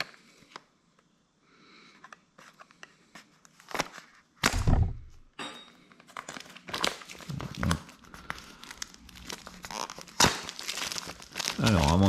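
Crinkling and tearing of packaging as the box of an Aqara TVOC air quality monitor is opened, close and irregular, with quiet crackles building to louder rustles and thunks.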